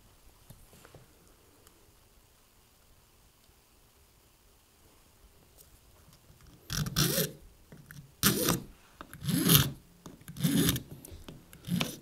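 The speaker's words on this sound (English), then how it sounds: "So I come in with my more coarse file" A coarse file rounds over the square fret ends of a guitar: a quiet start, then about five loud, close rasping strokes in the second half.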